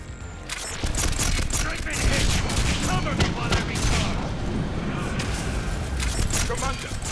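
Gunfire rattles through a Mass Effect 3 firefight, dense overlapping bursts and sharp reports that keep going for several seconds, with game voices talking over the shooting.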